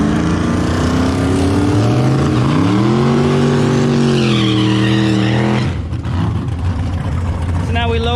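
A C7 Corvette accelerates hard on a race track, its engine roaring loud and close as the pitch climbs and holds, tires slipping, before the roar cuts off to a rough, noisy idle.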